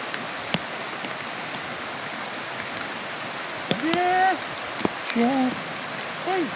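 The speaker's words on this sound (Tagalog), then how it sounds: "Malakas ang ulan." Heavy rain hisses in a dense, even roar throughout, with voices calling out briefly over the downpour near the end.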